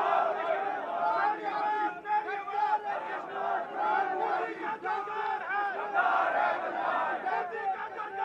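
Crowd at a political rally for Maryam Nawaz chanting slogans in unison, loud rhythmic shouted phrases from many voices repeating in waves, with chatter mixed in throughout.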